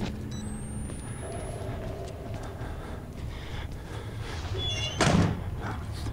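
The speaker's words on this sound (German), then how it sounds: "Tür zu." A door closing in the video game Outlast, one sharp thud near the end after a stretch of low rumbling ambience, fairly loud and close.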